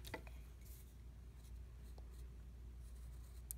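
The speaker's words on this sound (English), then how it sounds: "I'm just going to erase it" A rubber eraser rubs over a pencil drawing on paper with soft, faint scratchy strokes, close up and quiet against a low steady background hum.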